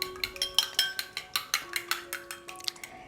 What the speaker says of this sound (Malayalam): ഉപ്പും കൂടി ചേർത്ത് കൊടുത്തതിന് ശേഷം നല്ലതുപോലെ ഒന്ന് ബീറ്റ് ചെയ്തെടുക്കാം